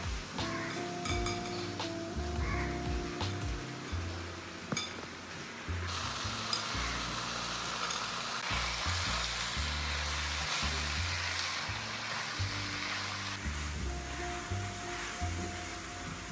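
Chicken pieces hit a hot pan of turmeric-seasoned oil, starting a steady sizzle and frying hiss with a few clinks of a utensil against the pan, close and moderately quiet, no talk.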